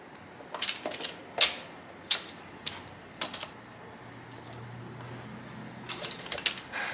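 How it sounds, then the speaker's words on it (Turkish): Knife chopping onions on a cutting board in a home kitchen, a handful of sharp, irregular close knocks separated by pauses, with no voices. "Soğanları da kesiyorum."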